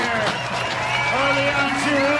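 A crowd at a pro skateboard street contest cheers and claps steadily throughout, loud and continuous, with an announcer's voice rising over the noise.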